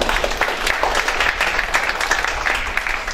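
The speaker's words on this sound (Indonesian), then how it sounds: "tepuk tangan buat kita semua" An audience at a Global Game Jam talk session claps steadily throughout, a dense, even patter of many hands at moderate loudness, with no talking over it.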